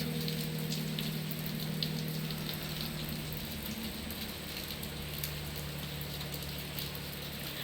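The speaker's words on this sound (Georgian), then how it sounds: "ესე ადრე არ ველოდი წვიმას" Rain falls steadily in an even, continuous patter, with a low mechanical hum running underneath throughout and no voices present.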